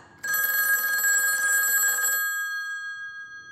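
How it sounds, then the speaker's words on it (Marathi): A landline telephone on a stool beside a bed rings loudly in a quiet room at night. One long electronic ring with steady tones lasts about two seconds, then fades into silence. "शेजारच्या स्टूलवरचा लँडलाईन वाजला"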